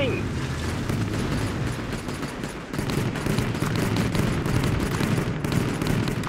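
A steady barrage of gunfire and explosions roars through a World War Armies battle, dense machine-gun bursts and booms blending into a continuous loud din, with voices shouting over it.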